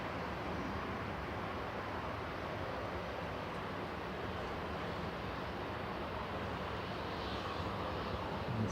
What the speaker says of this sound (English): Ready to go, Turkish Airlines off to Istanbul, TCJNP, flight 1994